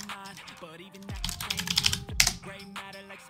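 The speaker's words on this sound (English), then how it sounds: "So if we type that in," Keys clatter on a computer keyboard in a quick burst of close, crisp typing, with a low voice murmuring briefly underneath.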